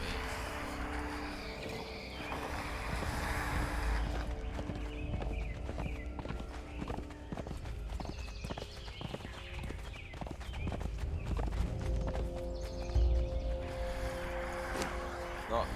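Rapid hollow hoofbeats of a horse in the video game Conan Exiles clop steadily and fairly loud across the whole stretch, layered over game ambience with a voice talking now and then.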